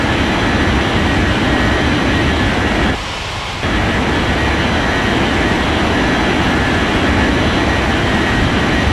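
An airliner takes off in an air traffic control game, a loud steady jet engine roar that drops out briefly near the middle, with no talking.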